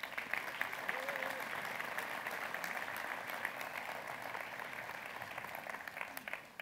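An audience at a trade show in Ciney Expo applauds a band one last time, dense sustained clapping from many hands that fills the room at an even level, with voices mixed in.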